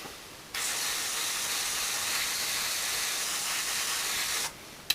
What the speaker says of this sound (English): various parts still on the sprue which need to be sprayed white, so we'll just do those